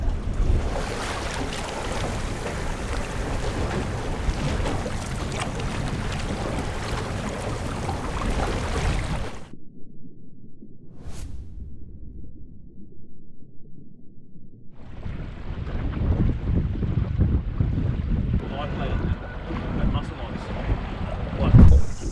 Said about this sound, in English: trying to get out of the wind, and that wind has followed us